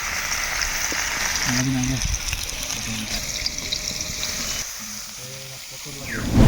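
Steady sizzling of cauliflower florets frying in hot oil fills the clip, with brief voices or tones popping up over the crackle.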